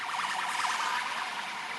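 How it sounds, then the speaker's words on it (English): An ambulance siren passing on a London street, its wailing tone sweeping steadily up and down, fairly loud and close, continuous over ambient city noise. "There's the ambulance."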